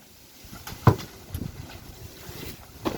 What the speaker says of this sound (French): Oh, il y a du vent, désolé.